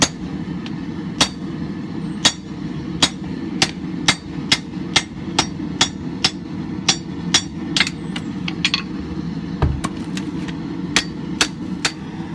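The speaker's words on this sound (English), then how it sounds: "I'm going to go ahead and cut off this fish mouthing and finish forging out this tip" Hammer blows ring out while forging the tip of a hand-made camp knife, single strikes landing at a steady, fairly regular pace over a low workshop hum, with no talking.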